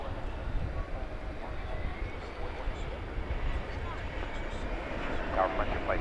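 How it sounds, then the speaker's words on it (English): An American Airlines Airbus A321 arrives on a DFW runway at night, a low, broad jet rumble that swells and fades, heard at a distance with a voice talking over it. "We've got an American Airlines flight coming in from San Francisco. To be specific, flight 1711. It will be an Airbus A321 here on runway DFW."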